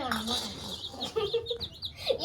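Several chickens, roosters among them, cluck and squawk close by in short, uneven bursts, with a few higher chirps mixed in.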